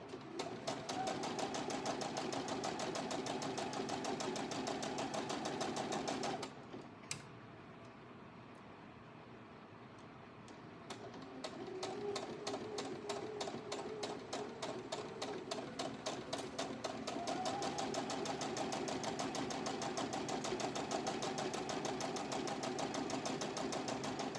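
A sewing machine chain-pieces quilt pieces with a close, fast, rattling stitch that runs steadily, pauses for a few seconds, then resumes for a long even stretch.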